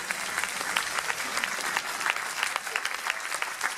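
An audience at a judo club's 2017 gala applauds steadily, a dense, sustained clapping from a crowd that fills the whole moment without letup.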